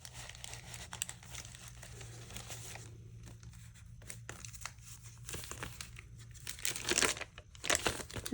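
Paper pages of a handmade junk journal turning and crinkling, a steady rustle of soft crackles and a few louder flips near the end, with a faint low hum underneath.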